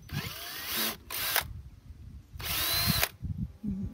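A power drill bores 1/4 inch holes in a steel drum for an ugly drum smoker, whining in three loud bursts separated by short pauses, with scraping and rattling of the metal between them.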